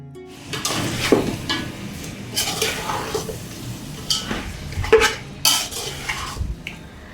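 Marinated meat sautés with onions and ginger garlic paste for biryani. A utensil scrapes and clatters against the pot in repeated strokes over a low sizzle, loud and close, with no talk.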